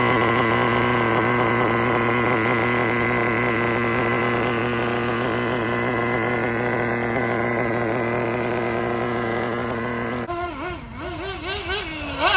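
A small electric RC car motor whines as it is broken in while being driven hard, a steady high-pitched tone with stacked harmonics that suddenly wavers and surges in rapid, uneven revs near the end.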